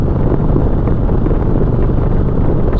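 Continuous heavy wind buffets a motorcyclist's helmet at speed. The roar is loud, steady and broadband, with no pauses and no talking.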